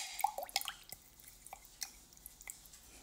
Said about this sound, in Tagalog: Haluin lang natin hanggang sumama yung Nutella dito sa gatas.